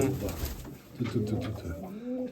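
A ginger pigeon among a loft of Mykolaiv pigeons in Kamianske coos in low, repeated phrases while a person talks nearby.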